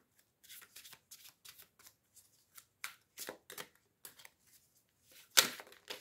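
Claude Monet tarot cards are shuffled in a quiet room as a series of soft, separate riffles and flicks, with one sharper snap near the end and no voices.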